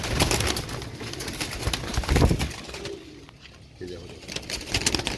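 Royal Teddy pigeons coo softly in a loft amid rustling and background noise, low repeated coos heard near and moderately loud while someone speaks briefly over them.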